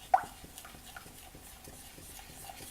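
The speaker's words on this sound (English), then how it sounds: "I'm gonna put all of these in a large bowl. Then I'm adding some olive oil. I'm gonna mix it all together." A spoon stirs spices and olive oil in a large bowl with soft, rhythmic scraping strokes, one sharp clink at the start and faint wet mixing after.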